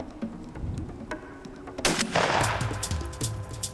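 A single loud shotgun blast rings out on a turkey hunt outdoors, followed by a fading echo, heard close with no talk.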